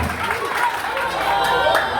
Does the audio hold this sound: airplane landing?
no